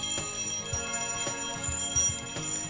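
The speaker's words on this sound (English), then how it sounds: "I even have some chimes down here." Bright metallic chimes and bells played as Christmas percussion, several distinct strikes ringing out over a sustained shimmering tone, close and moderately loud with no voices.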